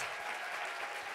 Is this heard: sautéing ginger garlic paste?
no